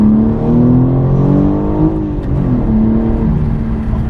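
A BMW M4 G82 with a 6-speed manual accelerating, a loud close engine drone with harmonics climbing in pitch as the revs build, a brief dip, then pulling again.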